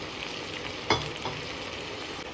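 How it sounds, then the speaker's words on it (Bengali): Potatoes and meat stir-fried together in a pan, with a steady close sizzle and one sharper burst of frying as the mix is turned, no talking. "আলুটাকেও এবার কষাবো মাংসের সাথে"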